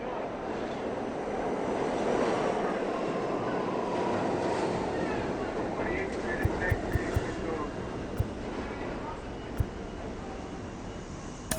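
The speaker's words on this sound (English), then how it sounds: "Northbound D train, next stop Yankee Stadium, 161st Street, and clear of the closing doors." A northbound D subway train rumbles steadily in MLB The Show 24, a broad continuous roar of rolling cars with a few sharp clicks and clanks near the end, while a voice talks over it.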